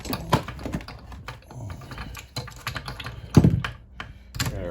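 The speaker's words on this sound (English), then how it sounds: "Okay, ratchet. Snug it up." A ratchet wrench with a 13/16 spark plug socket snugs the spark plug into a vintage Canadian chainsaw, producing a string of close, sharp clicks in uneven bursts with a few heavier knocks.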